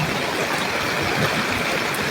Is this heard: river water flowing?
yes